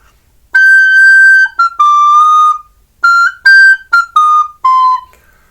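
A recorder plays a short, breathy, whistle-like melody of sustained and quick notes, clear and close, with brief pauses between phrases.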